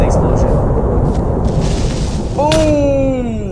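A loud, rumbling Minecraft creeper explosion fills the space, followed by a sliding musical tone as a voice talks over it.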